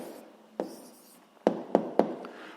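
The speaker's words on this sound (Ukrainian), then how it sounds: "І записуємо відповідь." Pen or marker taps and strokes on paper or a board while writing down an answer to a sixth-grade maths volume problem: a few sharp, close taps over a faint scratching background, with no talk.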